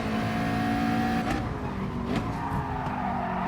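Race car engines in GT Sport at Barcelona, a loud continuous drone with tyre noise and a second car closing in from behind, its pitch sweeping briefly as it nears.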